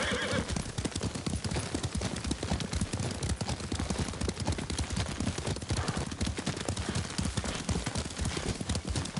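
Horse hooves clip-clop in a steady galloping rhythm while riding in the samurai video game Ghost of Tsushima, loud and continuous with an occasional whinny amid game ambience.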